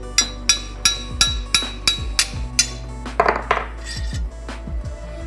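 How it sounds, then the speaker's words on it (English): Hammer blows knock a tight-fitting guard off a knife blade, about nine sharp metallic strikes in a steady rhythm, loud and close, followed by a clattering jingle of loose metal and a few lighter taps, with no talk. "The guard fits on pretty tight and you gotta use a hammer to get it off"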